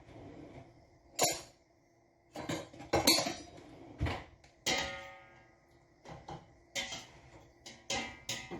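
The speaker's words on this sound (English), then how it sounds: "I'm going to put it on the stove." A pot being set on the stove: a series of separate metallic clanks and knocks, about a dozen sharp hits spaced irregularly with quiet between them, fairly close.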